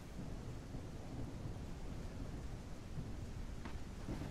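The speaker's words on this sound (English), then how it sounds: "It looks like a storm, but the rain is very nice." Steady rain and rumbling thunder from a storm in the Gothic 1 Unreal Engine remake video game, a dense continuous wash of rainfall with low thunder rolling underneath, no voices.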